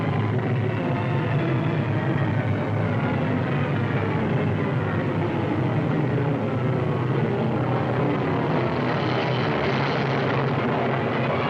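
A WWII B-17 bomber's engines drone in flight: a loud, steady, dense roar that holds unbroken for the whole stretch, with no voices over it.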